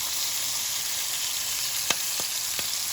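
Ribeye steak sizzling in foamy butter with garlic, a steady close hiss of frying with a few brief crackling spits near the end.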